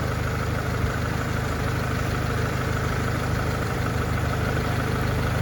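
A front-wheel-drive car engine idles at operating temperature, giving a steady, even low hum and rumble with no revving, heard alone at moderate level.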